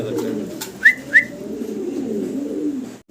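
A large white German Beauty Homer pigeon gives two short, close, distinct coos over a steady bed of low ambient noise.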